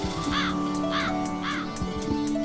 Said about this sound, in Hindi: लगता है कौवा बुरा मान गया।